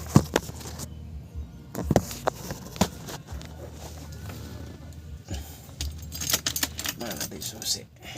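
A set of keys jangles in short bursts close by, handled near a MAN truck while working on its tachograph, with a few sharp metallic clinks and light knocks spread across the moment.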